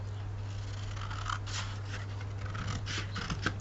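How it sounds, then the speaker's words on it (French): Scissors snip through paper along drawn lines during a papercraft scrapbooking project, a soft run of short, close scratchy cuts over a steady low hum. "Après, on prend les ciseaux et on coupe sur nos traits."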